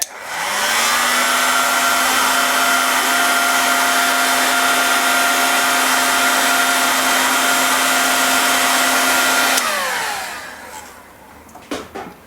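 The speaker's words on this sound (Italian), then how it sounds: "E la scaldiamo col phon." A handheld hair dryer heats a component during repair of an Elind 3232 linear power supply, roaring loud and steady for about ten seconds before spinning down, followed by a few small clicks.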